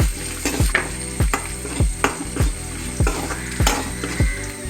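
Curry leaves, coconut pieces and shallots sauté in hot oil with a loud, close sizzle. A utensil scrapes and clatters against the pan in a regular stirring rhythm, roughly twice a second.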